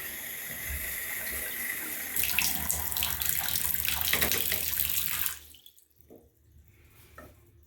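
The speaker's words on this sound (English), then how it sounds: "Now I'm going to go and turn the water on." A bathtub faucet, just fitted with a new valve seat, runs in a loud steady gush of water for about five seconds, then shuts off, leaving faint drips and quiet residual trickling.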